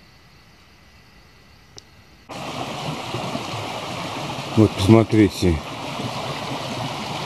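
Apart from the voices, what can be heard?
rain-swollen mountain streams flowing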